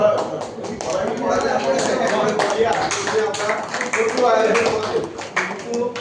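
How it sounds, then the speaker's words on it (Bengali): An audience at a felicitation ceremony claps continuously, steady dense applause running under a speaker's voice the whole time. "হাততালি হবে"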